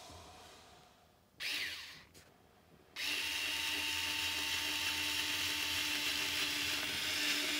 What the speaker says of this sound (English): We're going to drill a hole into it.